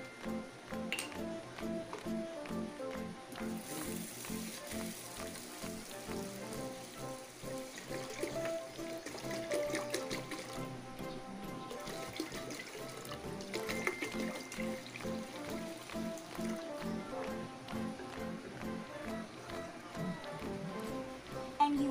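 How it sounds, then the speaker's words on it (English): Rice being washed in water inside a rice cooker pot: soft, faint swishing and sloshing with light grainy clinks, continuing steadily at close range without speech. "And you wash the rice in the water."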